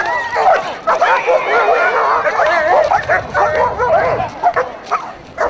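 Police dog barking and yelping during a police demonstration of catching and restraining offenders, loud and close with excited repeated barks and whines, crowd voices mixed underneath.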